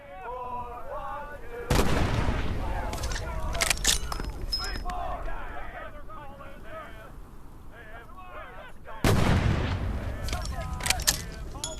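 Grenade blasts in the VR shooter Medal of Honor: Above and Beyond, two loud booming explosions a few seconds apart, each with a sudden broadband burst that rumbles on, with talk and smaller game sounds between them.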